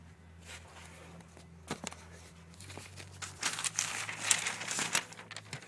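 Paper is laid out outdoors in strong wind for a Toyota Tacoma oil change, crinkling and rustling close by. It starts soft with a few crackles, then builds to loud, busy crumpling bursts.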